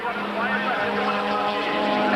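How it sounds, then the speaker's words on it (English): Touring race car at Killarney circuit with its throttle stuck wide open, a loud sustained engine roar with a steady high-pitched drone, heard alongside talk throughout. "It sounded almost as if Moss's throttle was stuck wide open."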